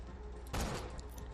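A single loud gunshot blast from a weapon in Borderlands 2 bursts out midway through a steady background of game noise, close and sharp with a brief rumbling tail.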